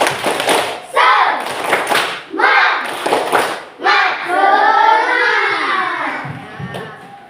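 A school class doing the "tepuk semangat" clapping chant, sharp rhythmic bursts of group clapping mixed with children's voices, then a sustained stretch of chanting voices with claps near the end.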